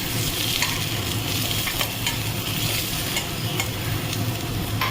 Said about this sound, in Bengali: আমি ইলিশ মাথাটাকে ভেজে নিচ্ছি।